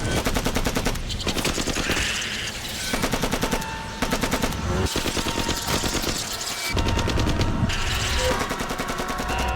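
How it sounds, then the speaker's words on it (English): Rapid automatic gunfire in S.T.A.L.K.E.R. Shadow of Chernobyl as a character shoots at a group of charging rats, loud continuous bursts with brief pauses between volleys, no talking. "Suddenly a group of rats starts running towards him and he starts shooting at them."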